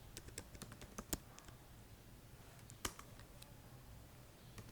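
Someone types a command on a computer keyboard while compiling C code in a terminal, giving faint scattered key clicks with a couple of sharper, louder strikes, alone and without talk.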